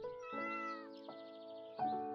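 A cat meows in the video game Esper, three drawn-out harmonic meows in close succession, clear and fairly quiet, with no talking.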